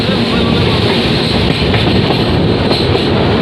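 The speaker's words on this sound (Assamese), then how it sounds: "এখন ট্ৰেইন গ'ল" A train rumbles past close by over a long river bridge, loud and continuous, with rhythmic wheel clatter over the rails.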